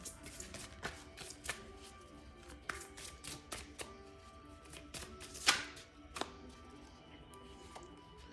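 A deck of fairy tarot cards is shuffled by hand, giving soft repeated riffling flicks and light taps in an irregular rhythm. Quiet and close, with no talk over it.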